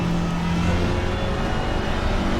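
Alpine GT4 race car in Assetto Corsa Competizione, lapping Misano in the rain, its engine holding a loud, steady high-revving drone with a constant whir, close up and uninterrupted.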